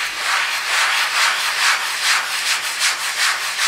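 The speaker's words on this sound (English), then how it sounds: "take this sanding block right here and sand down all of these holes on the wall" Close, steady hand sanding with a sanding block on dried filler in wall holes: a hissing scratchy rub repeating in quick back-and-forth strokes, with no voices.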